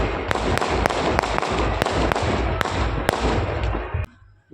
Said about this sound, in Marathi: तेव्हा हे फटाके फुटते बघा इकडे.